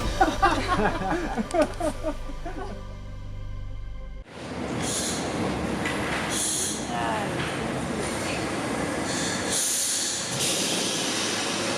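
Paris metro train running, with a mechanical rhythmic start and then a steady loud roar of wheels and carriage noise with occasional squeals and hiss, while people talk in the background.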